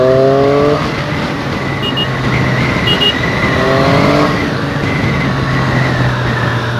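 A Triumph Street Triple 765 R motorcycle rides at about 50 km/h in Road mode, its engine a steady close drone with harmonic tones that shift as it changes gear, under loud wind rush throughout.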